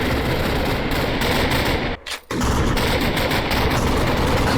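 Constant heavy gunfire in a role-play video game, dense rapid shots filling the whole stretch, loud and close, with one brief drop near the middle.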